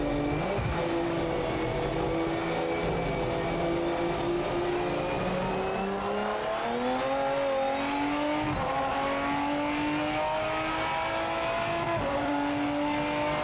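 A Mazda 787B race car in the Project Motor Racing video game roars loudly and continuously, its engine pitch rising and falling through gear changes with brief tire squeal and no talk.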